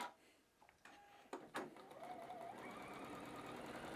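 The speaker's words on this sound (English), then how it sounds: "And I'm just going to stitch along, securing all 4 layers, the 2 layers of the canvas Spam fabric and the layers of the fusible fleece here." A sewing machine stitching through two layers of canvas fabric and fusible fleece, starting after a few faint clicks and settling into a steady, quiet mechanical whir.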